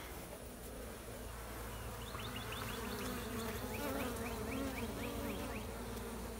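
A swarm of bees hums inside a hive hidden in a brick wall in Hurley, Mississippi. The buzzing is a steady, fairly quiet drone, with brief higher whines from individual bees passing close by.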